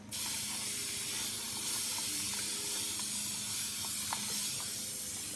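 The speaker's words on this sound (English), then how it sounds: "So I'm going to mist." A misting spray bottle sprays water in a long, steady hiss lasting several seconds, close and fairly loud, with faint small clicks and no talking.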